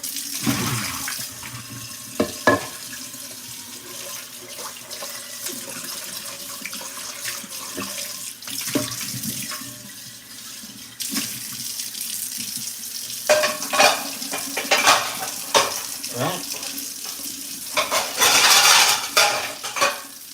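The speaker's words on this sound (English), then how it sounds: "Do some dishes." Tap water runs into a kitchen sink while dishes and cutlery clink and scrape, with irregular clatters and splashes close by and no talking.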